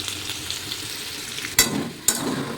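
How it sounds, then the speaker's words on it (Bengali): Potatoes frying in a pan, a steady close crackling sizzle with two sharp bursts of spatter or stirring standing out near the end. "এদিকে আমি আলুটা ভেজে নিচ্ছি"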